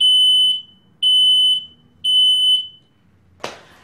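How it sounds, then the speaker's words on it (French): A smoke detector being tested with simulated smoke gives three loud, piercing high-pitched beeps in an even rhythm, each about half a second long, followed by a short sharp knock. "Le sapeur-pompier teste le détecteur avec un produit professionnel simulant une fumée de début d'incendie."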